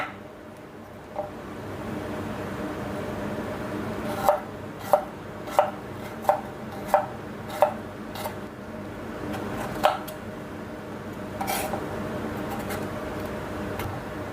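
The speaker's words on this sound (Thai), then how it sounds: "มาหั่นกระเทียม" Crisp, evenly spaced knife chops slicing garlic on a cutting board, about eight sharp taps in a steady rhythm with a few softer cuts around them.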